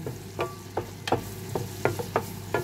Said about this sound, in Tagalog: Mag-isa muna ako ng garlic at saka onion sa butter